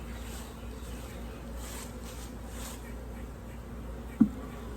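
Honeybees in an opened hive during a winter inspection give a faint, steady buzzing hum throughout, with one brief knock near the end.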